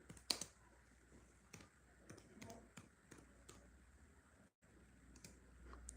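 Scattered keystrokes and clicks on a computer keyboard, irregular and close but quiet, with short pauses between bursts and no speech.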